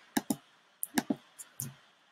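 Computer keyboard keys and mouse buttons click close by during Tinkercad work, about seven sharp taps in an uneven rhythm, some in quick pairs, with no talk.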